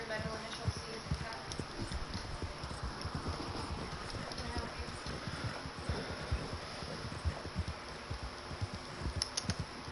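Horse hooves clip-clop steadily along a trail in the Wild West game Red Dead Online, quiet and continuous under a constant rustling ambient bed.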